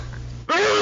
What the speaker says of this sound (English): I'm sitting there sneezing and muting.